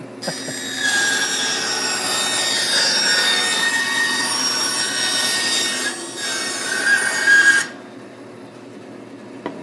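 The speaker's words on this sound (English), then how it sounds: "Cuts like a bandsaw." A woodworking bandsaw in a shop cuts through wood with a steady, bright, rasping whine that holds for about seven seconds, then drops out abruptly. A faint thump follows, and nobody talks.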